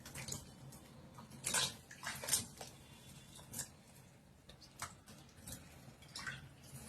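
Something is washed by hand in water with a little salt, giving soft, close sloshing and splashing in bursts, with scattered drips between them and no talk.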